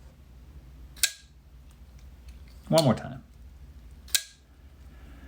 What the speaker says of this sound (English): The sound that this knife makes is beautiful.